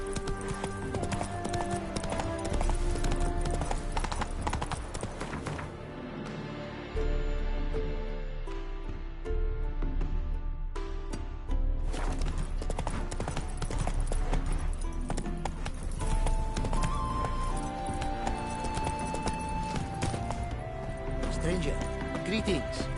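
Hooves of Geralt's horse Roach pound in a steady galloping clip-clop in The Witcher 3, set beneath a dense, continuous orchestral score with voices speaking over it at times.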